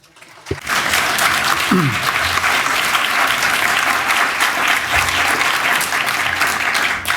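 An audience at a talk breaks into sustained, dense applause after a brief thump, many hands clapping loudly and steadily for several seconds without letup.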